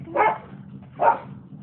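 A dog barks twice, loud and close, with roughly a second between the two barks.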